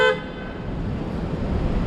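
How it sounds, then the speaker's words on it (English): A car horn gives one short, sharp toot in New York City street traffic, heard nearby at the very start, then a steady rumble of passing vehicles fills the rest. "Why are you honking?"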